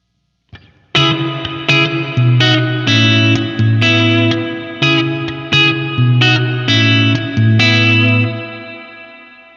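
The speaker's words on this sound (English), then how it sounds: "Now, if we want a darker reverb, we can turn it down." Guitar chords through a Boss RV-5 digital reverb pedal with the tone knob turned down for a darker sound; loud strummed chords follow one another, their tails rolling off smoothly into a fading reverb wash.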